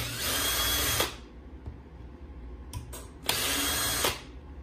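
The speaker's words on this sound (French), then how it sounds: "C'est vraiment rapide hein, à ouvrir un diff avant. Surtout avec une perceuse dévisseuse." A cordless drill-driver spins screws out while opening the front differential of a Hobbytech BXR-S1 RC car, in two loud, close whirring bursts separated by a quiet pause.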